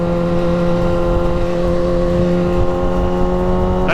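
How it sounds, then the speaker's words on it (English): A motorcycle engine holds a loud, steady, high-pitched rev with strong sustained harmonics, close by and alone for about four seconds. "You twist the throttle with your right hand and you hold on."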